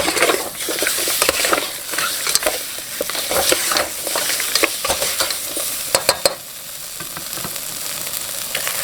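Pork belly stir-fried in a pan for a Thai braised egg and pork dish: a steady, close hiss of sizzling fat with frequent clicks and scrapes of a utensil moving the meat, and no talking.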